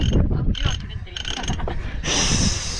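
An old sailboat winch, freshly greased, turns with rattling mechanical clicks and whirring, close and fairly loud, ending in a brighter sustained grinding spin; faint voices may sit underneath.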